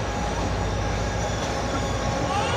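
The Hazara Express passenger train, led by locomotive 8224, runs along the rails with a loud, continuous rumble and rattle of wheels and cars, plus faint squealing. No voices are heard.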